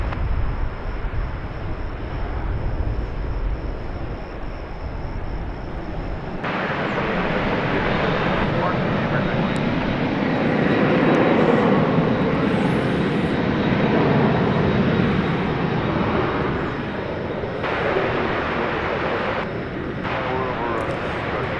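An American Airlines jet takes off from runway 18 left at DFW Airport, its engines building from a distant rumble into a loud, broad roar that holds for twenty seconds, with radio talk in the background.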